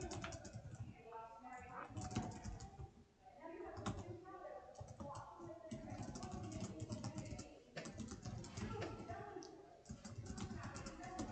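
Steady keyboard typing clatters throughout, with soft rapid key taps under people talking quietly in the background.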